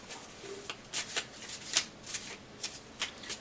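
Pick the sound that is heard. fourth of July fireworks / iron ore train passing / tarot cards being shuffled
tarot cards being shuffled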